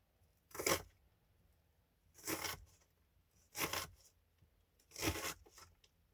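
Knife dicing food on a cutting board in a home kitchen: four separate sharp chopping strikes at roughly even intervals, close and crisp, with quiet pauses between and no talking.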